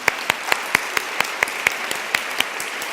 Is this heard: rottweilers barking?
no